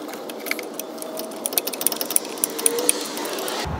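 Ratchet tightening 14 mm bolts on a 1st-gen Toyota Tacoma alternator, a quick run of close, crisp clicks in short bursts that speed up and then stop.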